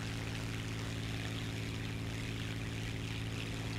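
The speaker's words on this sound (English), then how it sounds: "I'm gonna show you the skill it takes to land a plane" A propeller-driven Yak-3 fighter plane in the War Thunder game drones steadily on its landing approach, a loud, constant engine roar with a tonal hum and no speech.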